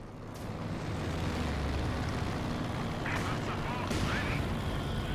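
Artillery rounds from a Company of Heroes-style match, Wehrmacht against Soviets, landing as a steady low rumble with a few sharper impacts near the end, all beneath continuous battlefield noise.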